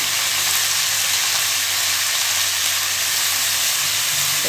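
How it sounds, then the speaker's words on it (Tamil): Pirandai chutney ingredients with tamarind sautéing in a pan, a steady broad sizzle with soft stirring, close and continuous with no talk. "திறந்து நல்லா வதக்கிடுங்க"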